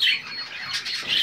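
White parrots screeching at close range, with several loud, harsh squawks following one another in quick succession.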